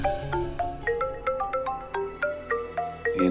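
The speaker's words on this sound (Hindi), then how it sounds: "इनको भी अभी फोन करना था।" A mobile phone ringtone plays loud and close, a repeating melodic phrase of bright electronic notes in a steady rhythm, heard on its own without talk.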